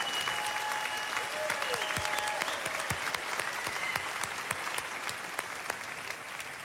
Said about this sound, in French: Applaudissements pour Daniel Ganser.